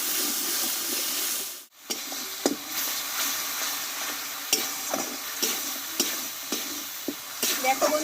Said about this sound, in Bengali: আদা টমেটোটা ভালোভাবে কিন্তু আমি কষিয়ে নিয়েছি